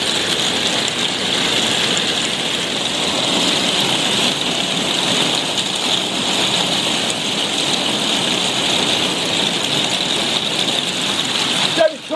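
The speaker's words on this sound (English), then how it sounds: "when it rains, it gets a bit loud, and when it's hailing, it's even louder" Dense, steady hiss and patter of hail drumming on a conservatory roof in a pub beer garden, a loud unbroken wash of impacts lasting throughout with a brief knock near the end.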